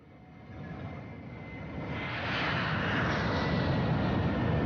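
Airliner engines of Flight 232 bound for Chicago, a steady jet roar that swells louder over a few seconds as the plane sets off, with no voices.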